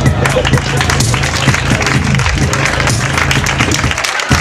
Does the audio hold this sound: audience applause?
yes